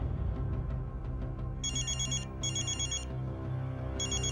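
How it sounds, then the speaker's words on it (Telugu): A phone rings in repeated electronic bursts, each a bright warbling tone with short gaps between, sounding over a steady low background hum. "ఆమెకు ఫోన్ వచ్చింది"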